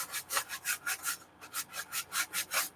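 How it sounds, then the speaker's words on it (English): Rhythmic sanding strokes rub back and forth about a dozen times, sanding off excess paper at a junk journal's edge, a steady scratchy swish with a brief pause midway, close and fairly loud. "I'm not cutting it off, sanding it off."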